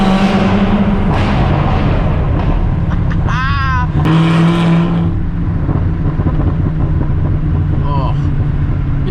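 A Chevrolet Corvette ZR1 of about 1,000 horsepower, rumbling and revving loudly through its exhaust close by, with voices talking over the engine.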